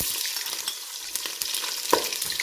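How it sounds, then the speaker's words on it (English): Chopped onion sizzling in heated oil in a pan, a steady crackling fry with small sharp pops, close and alone. "So my oil is heated up. I'm going to go in with my onion"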